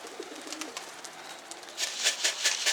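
Pigeons coo and flutter close by, soft at first and then louder, with rapid wingbeat-like bursts toward the end.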